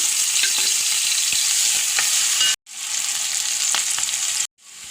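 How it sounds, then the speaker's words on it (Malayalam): Hot oil sizzles loudly and steadily as chopped garlic and shallots fry, with occasional pops and spoon scrapes; the sound cuts out briefly twice. "എണ്ണ ഒഴിച്ചു എണ്ണ കാഞ്ഞപ്പോൾ എനിക്ക് വെളുത്തുള്ളിയും ചുവന്നുള്ളിയും ചാച്ചു തുടങ്ങി"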